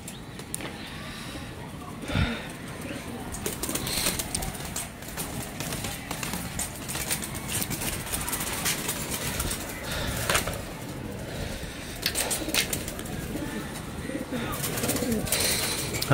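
Doves cooing near a cage with young dove chicks, soft repeated coos mixed into steady outdoor background noise, with a few brief louder sounds throughout.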